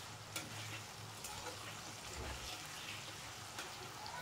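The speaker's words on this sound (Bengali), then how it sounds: "তো নাড়াচাড়া করতে করতে আলুটাকে ভাজা করব।" Potatoes with turmeric and salt fry in a pan while being stirred, a quiet steady sizzle with a few sharp scraping clicks from the utensil.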